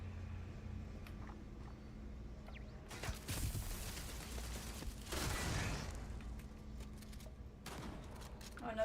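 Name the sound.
turrets firing in Starfield video game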